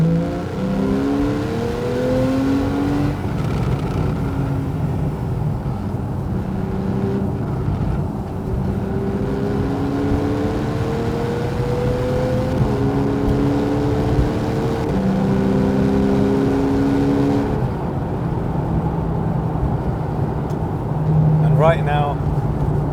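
A Porsche 911 991.1 Carrera S with PDK transmission is driven fast, its engine note sweeping up through the gears with steady road and wind roar, while a person talks over it.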